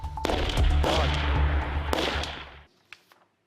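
Loud bursts of gunfire crack and rattle close by on the Kursk region front, a rapid sustained volley that stops abruptly, followed by a couple of fainter distant shots.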